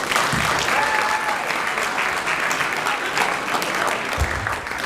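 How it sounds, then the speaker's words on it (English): Steady audience applause for a student sports team at an end-of-season awards ceremony, many hands clapping continuously at fairly loud level throughout with a dense, even texture and a few stray voices underneath. "So let's give them one more round of applause."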